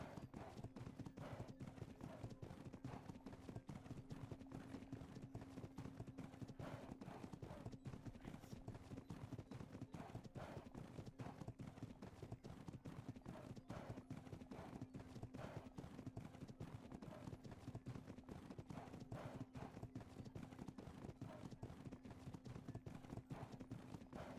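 A horse's hooves clip-clop at a steady, even pace through a video game ride, the rhythm continuing quietly for the whole stretch.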